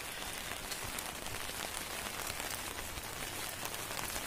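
Heavy rain pours steadily on a hill road between Valparai and Pollachi, a dense, even hiss of drops on surfaces with no pauses and no talking.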